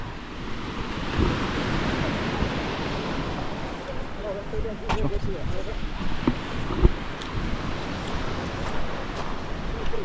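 Rough sea surf breaking on the shore at Imsouane, Morocco, seen from a high cliffside lookout: a steady broadband roar of crashing waves with wind buffeting, and someone speaking faintly over it.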